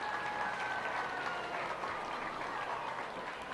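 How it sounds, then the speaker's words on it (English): Spectators at a county youth fair livestock show applaud a young boy in breeding goat showmanship, a faint, distant, even patter of clapping in a large arena with a quiet hum beneath. "Let's give him a round of applause"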